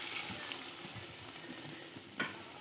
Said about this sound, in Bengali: এবার আবারও কিছুক্ষণ নেড়ে চেড়ে অ্যাড করে দেব সামান্য পরিমাণ জল।